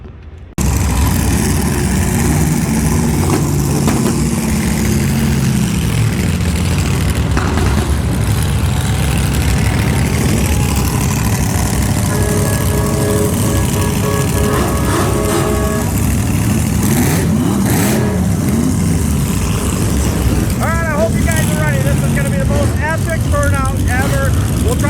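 An LS-engined car on colored smoke tires idles with a deep rumble, then revs and pulls away down a street, the engine loud and close throughout with people talking over it.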